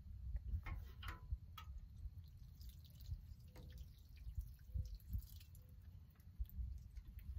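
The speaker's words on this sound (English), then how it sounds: "water some, stop, let that water soak in, and then water some more" Water drips and trickles while a shade garden plant is watered, as scattered soft drips and small splashes at close range over a low rumbling background.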